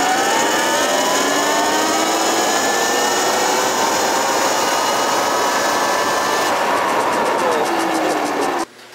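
A Surron X electric dirt bike rides at speed, its whining motor and rushing wind loud and steady throughout before cutting off abruptly near the end.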